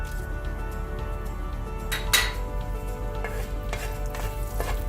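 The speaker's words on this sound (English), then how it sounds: "Lightly fry that for a few seconds." Whole spices and a bay leaf fry in oil with a soft continuous sizzle, punctuated by a few light clinks and stirring scrapes of a utensil against the pot, close up.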